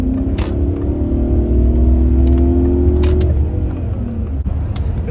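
A BMW E38 740il V8 sedan engine revs and accelerates with a rising, steady rumble, loud and close throughout, with no talking.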